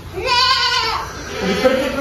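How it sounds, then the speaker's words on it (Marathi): Goats bleat repeatedly on a goat farm near Dharur, in Kolhewadi, where chickens are also kept; the calls are loud and close, with a long wavering cry followed by shorter ones. "आता 5-50 कोंबड्यासोबत त्यांचं शेळी पालनाचा फार्म आहे."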